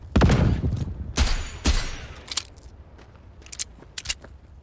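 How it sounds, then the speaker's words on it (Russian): Gunfire in Cyberpunk 2077 hits as several sharp, loud shots in an irregular sequence, heavy impacts early and then lighter, clicking reports trailing off. "Кто, блять, по мне стреляет?"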